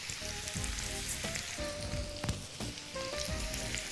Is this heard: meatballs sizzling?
yes